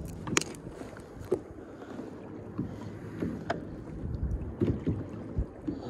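A kayak paddles on open ocean water at Sunset Bay near Coos Bay, Oregon, with rhythmic paddle splashes and drips every second or so over soft wind and water lapping against the hull.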